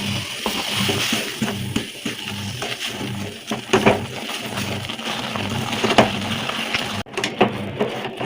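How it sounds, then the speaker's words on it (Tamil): A spoon stirs flour into hot water in a cooking pot, irregular scraping and sloshing strokes that repeat closely and fairly loudly throughout, with no speech. "மாவு நம்ம இதில் சேர்த்துட்டு நல்லா கரண்டி வச்சு கலரிக்கலாம்"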